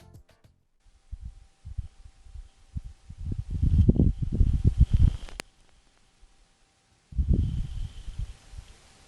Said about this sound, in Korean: 퍼서비어런스가 보내온 화성의 모래바람 소리 같이 들어보실까요?